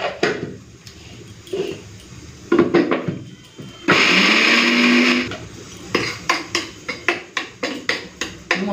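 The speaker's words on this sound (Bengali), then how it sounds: "এখন মাংসের জন্য আর মোচার জন্য আদা রসুন আর শুকনো লঙ্কাটা বেটে নিই।" Ginger, garlic and about four dried red chillies ground into a paste without water in an electric grinder: one loud whirring burst lasting about a second, framed by clattering knocks and rapid rhythmic thumps of the jar before and after.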